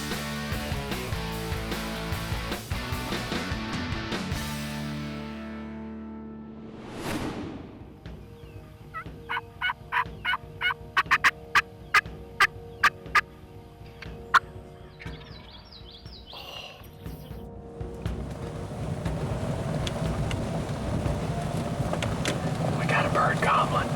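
Wild turkeys gobble during a hunt in Iowa: a short series of sharp, rattling gobbles in the middle, mixed with rustling and outdoor noise, with whispered and spoken voices throughout.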